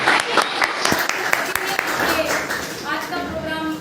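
Scattered clapping from an audience at a 75th Independence Day celebration held by a trust, uneven claps popping out over ongoing talk and crowd voices.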